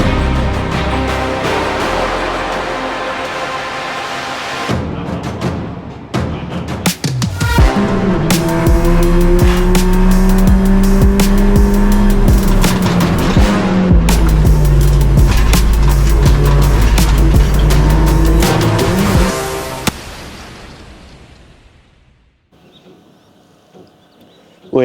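Audi TT Cup race cars at Oulton Park circuit, engines roaring loudly and steadily as they pass close by for about fifteen seconds, then the noise drops away to faint distant ambience.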